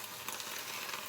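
Garlic cooking in a pan gives a brief, steady sizzle with crackly hiss, close and alone, lasting about a second.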